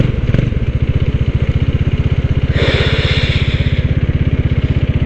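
Motorcycle engine idling steadily just after a showroom service with a replaced top head, a close, even low thrum with rapid regular pulses and a brief rise in pitch midway.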